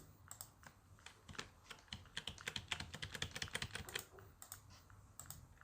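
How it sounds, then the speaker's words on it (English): Rapid, uneven clicking of a computer keyboard as an Excel function is typed in, the keystrokes crisp and close, thickening into a busy burst midway before thinning out, with no talking. "So let's just like type the function over here."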